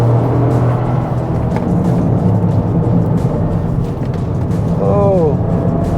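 A Toyota GR Corolla engine drones loudly and steadily from inside the cabin under acceleration, with a brief rising whine near the end.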